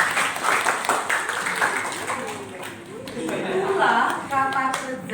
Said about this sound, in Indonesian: tepuk tangan untuk semua yang laki-laki